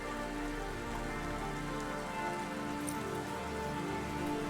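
Steady rain falls in the city of the video game Cloudpunk, a continuous close patter of drops on surfaces, soft and constant with no voices.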